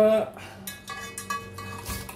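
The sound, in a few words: crabs being put into a cooking pot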